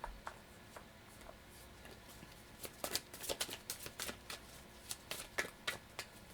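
Tarot cards are shuffled close up in a quiet room, giving soft riffling and a run of crisp flicks and taps that grow busier and more rhythmic toward the end, with no voice over them.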